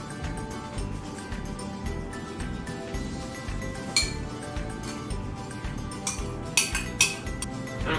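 Chicken wings tossed with sauce in a bowl, giving a steady wet clatter and scraping with sharp clinks of a utensil against the bowl, close and continuous throughout.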